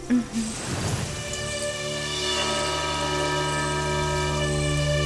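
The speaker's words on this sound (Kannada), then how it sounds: "ಮಳೆ ಬರ್ತಾ ಇದೆ, ಒಳಗೆ ಬನ್ನಿಪ್ಪ" Steady rain hiss fills the background, with a few muffled bumps and a brief voice-like sound at the start.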